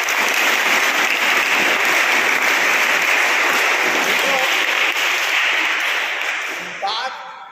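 Steady applause from an audience at a Marathi public event marking Shahu Maharaj's birth anniversary and anti-drug day, dense and loud throughout, fading near the end as a few voices and claps linger.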